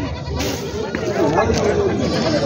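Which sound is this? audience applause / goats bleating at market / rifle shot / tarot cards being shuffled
goats bleating at market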